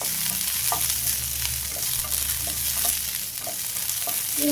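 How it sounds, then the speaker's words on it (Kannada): Steady loud sizzle of frying in a pan while preparing bassaru sambar, a continuous broadband hiss with occasional stirring scrapes and no talk. "ಈ ಥರ ನಾವು ಫ್ರೈ ಮಾಡ್ಕೊಳ್ಳೋಣ"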